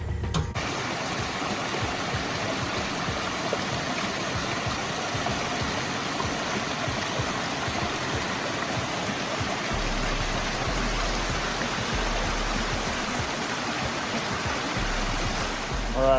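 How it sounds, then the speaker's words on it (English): A koi pond waterfall runs with its pumps on, a dense, steady rush of falling water that stays broadband and unbroken throughout, close and fairly loud. "We're getting this pond and waterfall wrapped up pretty dang close, at least here."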